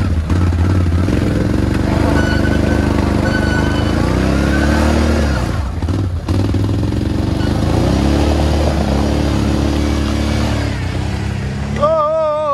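A Can-Am Renegade quad engine revs steadily and loudly throughout a ride, its pitch rising and falling with throttle, while people talk and shout over it close by.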